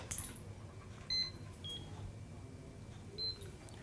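A few short, high electronic beeps from a microchip scanner reading a dog at a veterinary practice sound at intervals over a quiet low hum, with faint background noise between them.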